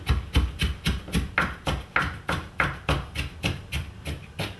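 A knife chops an onion on a cutting board in steady, evenly spaced strokes, about a dozen crisp close taps for black bean soup, with no voices.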